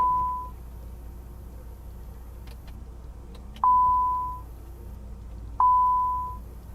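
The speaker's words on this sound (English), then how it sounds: "the driver presses their intercom button and it rings back here like a telephone" Rear-seat intercom of a 2000s Maybach 62 luxury sedan ringing like a telephone, three clear electronic beep tones spaced a couple of seconds apart inside the quiet cabin, with faint clicks between.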